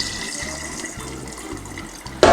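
Cloudy rinse water from jasmine rice is poured out of a pot into a sink, a steady watery rush that swells into a louder splash at the very end, with no talking.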